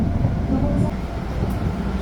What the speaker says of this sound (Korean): 지하철 1호선을 타고 갑니다